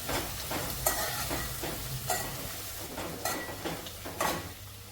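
Cabbage cooks in a pan with a steady sizzle and repeated scraping stirs of a spoon, several distinct strokes over continuous frying noise.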